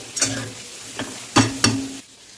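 Grated coconut frying in ghee in a pan while being stirred, with a soft steady sizzle under a few distinct scraping stirs of a spoon against the pan, close and fairly loud, with no voices.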